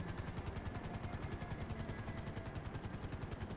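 A helicopter in the video game GTA 5 gives a loud, steady, rapid rotor chop with an even pulsing rhythm throughout and no voices.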